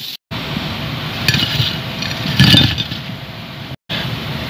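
Banana pieces fry in hot oil until golden, giving a steady, moderately loud sizzle with brief crackling swells, broken by two short silent gaps.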